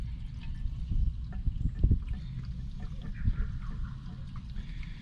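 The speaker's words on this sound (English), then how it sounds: "Put some gas in it and see if the pump works." Gasoline poured into a 1997 engine, a close, low, gurgling trickle of liquid running steadily for several seconds with small splashes.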